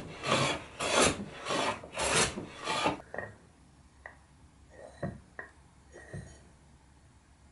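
Hand tool flattening and squaring the inside faces of a wooden cabriole chair leg: about five long, loud rasping strokes in steady rhythm, then quieter scattered taps and short scrapes.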